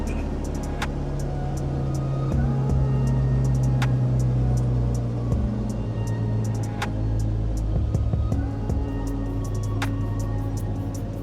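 A steady, droning aircraft piston engine idles at about 1000 RPM during preflight checks in Flight Simulator 2024, a constant low throbbing hum with faint clicks on top and no speech.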